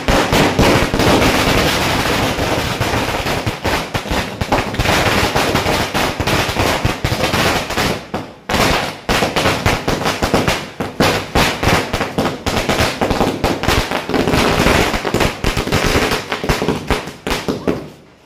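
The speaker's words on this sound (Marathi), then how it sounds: "फटाके वाजवायचं काम सुरू आहे." Firecrackers burst for Diwali on Lakshmi Puja night in a dense, nonstop barrage of loud cracks and pops, with brief gaps between some volleys.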